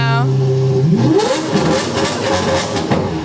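A car engine idles, then revs sharply upward and roars loudly nearby, with the rising pitch settling into a sustained growl; a voice talks over it.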